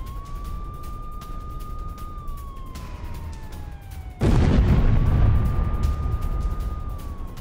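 A siren wails steadily in the distance, then a sudden loud blast of Russian bombardment in Bakhmut erupts into a heavy, sustained rumble.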